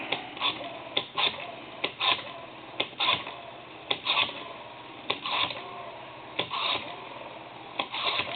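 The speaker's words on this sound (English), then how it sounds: "And then we want to dial our numbers out." Rapid mechanical clicking in short bursts with brief pauses between them as an ITT rotary desk telephone dial spins back, close and moderately quiet.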